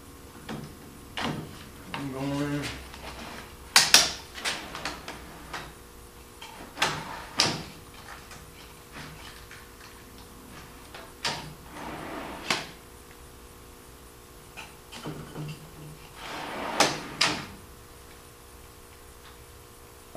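A newly mounted drawer on a brass-and-glass end table slides and knocks in repeated short bursts, with sharp clunks and scrapes separated by quiet pauses, close up with no talking.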